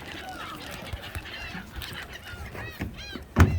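Seagulls at the seaside at Pyeonghwa Plaza in Mokpo give scattered honking calls over steady background noise, with a louder cluster of cries near the end, while people talk nearby.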